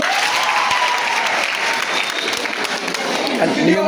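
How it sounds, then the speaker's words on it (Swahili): Audience applause on a stage: loud, dense clapping filling the whole stretch without a break, with a faint crowd murmur mixed in. "Nipigie shule makofi."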